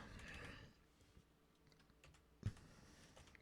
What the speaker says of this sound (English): Typing skills are on point today.